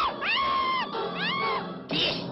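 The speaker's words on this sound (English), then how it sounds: "And now the screaming starts for them and for you." Loud, wavering screams rise and fall in a horror film trailer about a crawling dead hand, with two long wails and a fresh outburst at the end.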